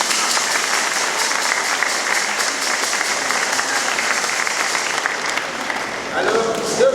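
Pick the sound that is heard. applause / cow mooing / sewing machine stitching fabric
applause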